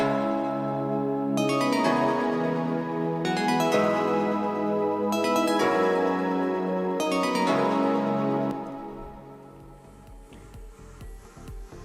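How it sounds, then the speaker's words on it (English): Sustained piano and Nexus synthesizer chords change every couple of seconds under a melodic line in call and response, then fade into a softer tail near the end. "if we add the piano chords and the Nexus chords together"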